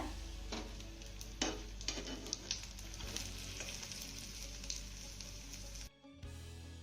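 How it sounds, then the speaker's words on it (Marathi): Rolls of water-soaked papad frying in oil as they are turned over, a continuous close sizzle punctuated by occasional clinks and scrapes of the turning utensil, faint overall, ending in a brief pause. "या गुंडाळ्या आपल्याला आलटी पलटी करत सगळ्या बाजूने छान अशा फ्राय करून घ्यायच्या"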